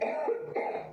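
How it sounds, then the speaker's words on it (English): One wet, phlegmy cough from a person bringing up green mucus, heard close and short, with a rough throat-clearing quality and no talk over it. "I just got coughed up mucus"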